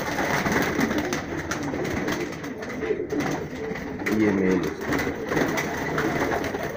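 High-flyer breeder pigeons coo softly amid a steady background murmur at a loft in Rajsamand, Rajasthan, with someone talking over them.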